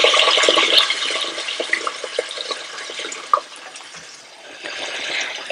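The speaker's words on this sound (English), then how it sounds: "I'm going to add about 5 to 6 cups of hot water." Hot water is poured into a pot of Afghan aash, a loud rushing gush at first that settles into lighter splashing and trickling over several seconds, with no talk.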